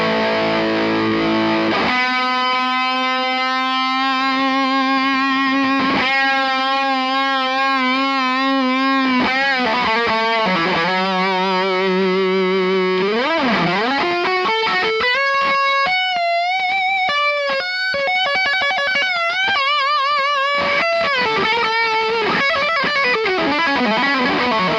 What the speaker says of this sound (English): If I put distortion on,